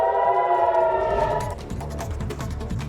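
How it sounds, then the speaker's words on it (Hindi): A wailing air raid siren in Tel Aviv rises and falls steadily, loud and sustained, with a rumbling, noisy mix beneath it in the second half. "तेल अवीव में सुनी गई सायरन की आवाजें।"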